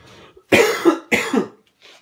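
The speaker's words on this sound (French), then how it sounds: "attends, je vais tousser" Two loud, harsh coughs close to the mic, each a rough burst with a short break between, followed by quiet.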